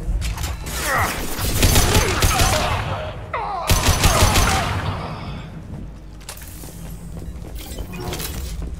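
Bursts of sci-fi gunfire in Mass Effect 2, rapid crackling volleys with sharp shattering impacts in two dense clusters, then quieter scattered shots trailing off.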